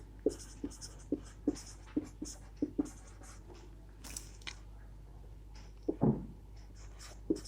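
Pen or chalk writing out a chemical equation during a chemistry lecture, a steady run of close tapping strokes and short scratches with brief pauses, plus a louder scrape near the end, with no talking.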